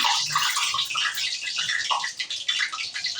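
Leftover water bursting and spitting in a hot frying pan while papads are fried, a steady sizzling hiss dotted with small crackles, close and even throughout.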